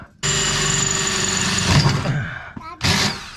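Power drill boring into a van body while fitting an Aluminess roof ladder and surf pole, a loud steady whine running about a second and a half before slowing, then a second short burst after a brief pause.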